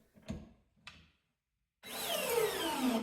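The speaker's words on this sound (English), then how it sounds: "the lag bolt on speed 2 typically hits overload protection and stops" A DEWALT drill on speed 2 drives a lag bolt into wood until overload protection stops it: two short mechanical clicks, a brief silence, then loud close whirring and grinding whose pitch sinks under load.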